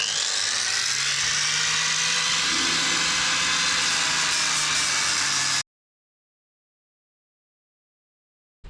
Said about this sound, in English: I bought this sanding disc. Uses at work quite a lot, so we're going to give this a whirl first of all